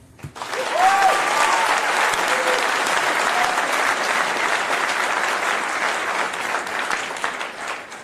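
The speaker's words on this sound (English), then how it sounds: "Can we get a bipartisan round of applause for Secretary Kennedy" Bipartisan audience applause for Secretary Kennedy at a food policy celebration, a steady, full crowd ovation lasting the whole stretch and tapering slightly at the end.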